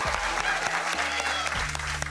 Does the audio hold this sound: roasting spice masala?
no